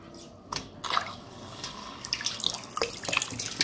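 A mini aquarium water pump pushes out water that splashes and trickles steadily into a basin, with scattered drips and gurgles close by.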